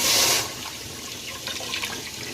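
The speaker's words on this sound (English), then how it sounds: "I have my cup full of water, and now we're gonna add it to the pan" A cupful of water is poured into a cooking pan, starting with a bright splashing gush that quickly settles into a lighter trickle and sloshing in the pan.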